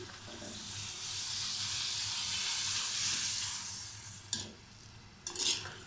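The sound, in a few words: gol gappay puris frying in oil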